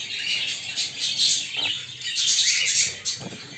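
Aviary birds and their chicks, a dense continuous chorus of high chirps and tweets, close and fairly loud throughout.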